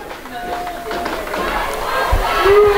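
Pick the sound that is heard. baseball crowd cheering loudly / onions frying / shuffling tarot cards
baseball crowd cheering loudly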